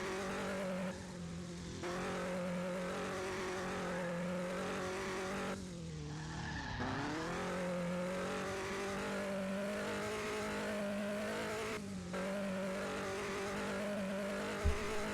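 Racing video game car engine holding a steady droning whine with harmonic bands, dipping and swooping as it shifts and brakes, continuous and close, with no voices.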